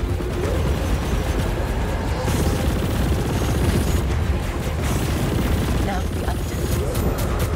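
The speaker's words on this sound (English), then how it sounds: "I'm heading over now to lay down some cover fire. Shoot to kill, okay?" Sustained gunfire and explosions in the space-combat video game Chorus, continuous loud bursts and booms throughout with a voice speaking briefly over the battle.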